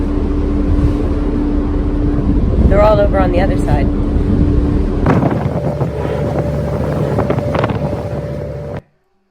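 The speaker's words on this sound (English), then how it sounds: "Once we got out to the open sea, the boat was really slammed around." Heavy wind buffets the microphone over the deep drone of a ferry engine on rough open sea, with a brief voice partway through before the noise suddenly cuts off.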